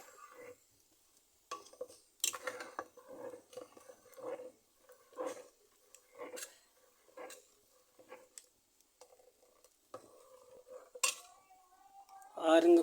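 A spoon scrapes and clinks against a pot as porridge with coconut milk is stirred, in intermittent bursts of knocks with quiet gaps, close and fairly soft.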